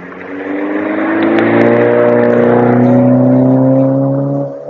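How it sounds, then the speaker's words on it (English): A car driving past with an aggressive rev, its engine drone loud and steady for most of the stretch, rising and holding with strong harmonic tones before easing off near the end; no talking. "A few cars passed by."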